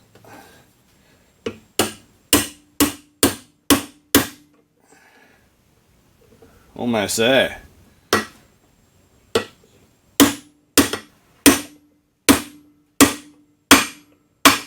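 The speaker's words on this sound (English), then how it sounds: "just a simple process of hammering onto a drift just to get it all right." Sharp metallic hammer blows drive a bearing onto a drift during a vintage GMF bench grinder repair, in quick rhythmic bursts, pausing briefly for a short spoken remark, then resuming with another steady series of hits.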